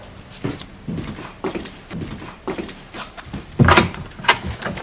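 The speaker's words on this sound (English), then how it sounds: "Open the door." A door is handled in a home interior, with a series of knocks, clunks and rattles of the latch and panel, louder toward the end, with no speech over it.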